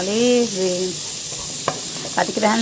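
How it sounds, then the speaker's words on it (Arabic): Onions fry in a pan for a fatteh sauce, giving a steady background sizzle with a few sharp clinks and scrapes of stirring, while a voice hums or speaks briefly over the start. "اقلبه كده لحد ما يحمر معايا وياخد اللون بتاعنا الذهبي الجميل كده"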